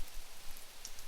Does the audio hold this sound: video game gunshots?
no